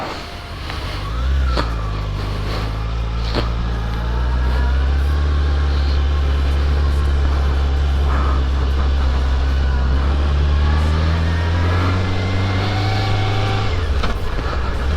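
Motorcycles pulling away together after a riders' meetup, engines rumbling and revving steadily close by and alone for the whole stretch, with pitch rising as they move off.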